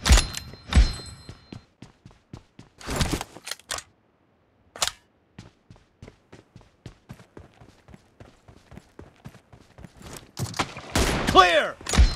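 Gunfire in the PUBG Mobile video game comes as scattered sharp shots and short bursts, some loud and close, others faint, with quiet gaps between and clicking game sounds near the end.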